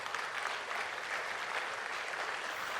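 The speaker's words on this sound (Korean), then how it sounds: "잠깐 큰 박수로 환영해 주세요." A church congregation gives a missionary a warm welcome with steady, even applause for a few seconds, a dense wash of clapping with no voices above it.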